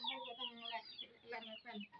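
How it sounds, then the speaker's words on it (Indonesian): Free-range village chickens cluck in short bursts while being carried and fed, soft and fairly close, with someone speaking quietly nearby. "ini mbak gendongnya ayam."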